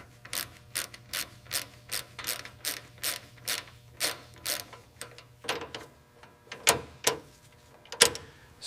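A ratchet wrench tightening gasket bolts on a 1959 Cadillac Eldorado Biarritz engine, close rhythmic clicking strokes in a steady series, then a few slower, heavier clicks.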